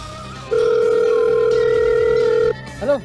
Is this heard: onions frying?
no